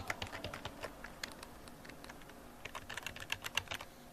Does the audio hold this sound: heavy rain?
no